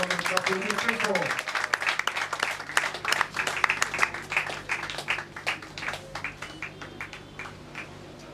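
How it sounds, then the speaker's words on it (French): An audience at a Kinshasa television channel inauguration attended by the city governor breaks into applause. Individual claps grow into brisk, rhythmic clapping that continues for several seconds, with a voice heard briefly at the start. "Nous vous souhaitons un applaudissement très fort."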